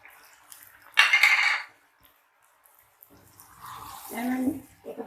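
A spoon stirs gobi chicken curry in a cooking pot, giving a short burst of metallic scraping and clinking near the start, followed by quiet and then someone speaking.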